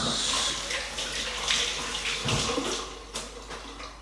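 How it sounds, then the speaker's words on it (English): Tap water runs steadily as hands are rinsed in a kitchen sink while making chicken patties, a continuous close splashing rush with small shifts as the hands move under the stream. "Just going to give my hands a quick rinse."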